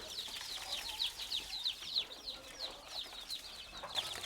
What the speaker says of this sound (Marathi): हे 1 दिवसाचे पिल्लं आहेत